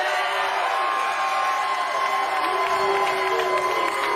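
Crowd at a professional bowling tournament cheering and whooping, loud sustained shouts and yells with sliding cries rising over a constant roar, with a little clapping.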